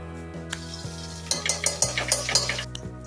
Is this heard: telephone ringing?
no